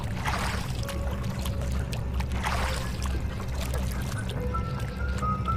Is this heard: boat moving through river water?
yes